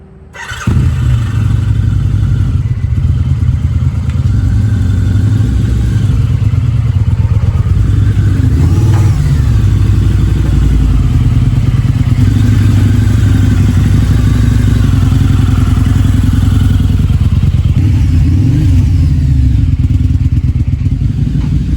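A Harley-Davidson V-Rod motorcycle, freshly restored and started for the first time in years, runs with a loud steady idle close by, blipping its throttle into brief revs with some mechanical clatter throughout.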